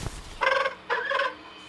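A bird in a Lord of the Rings Gollum video game gives two loud, close, throaty gobbling calls, each about a third of a second long, separated by a short pause with no talk over them.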